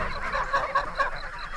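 Farm geese from a flock of about 400 honking repeatedly in overlapping, nasal calls, several birds close by and fairly loud with no talking.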